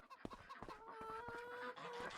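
Hungry chickens in Farming Simulator 25 cluck and squawk close by in a busy run of game sounds, with a sustained tonal call partway through.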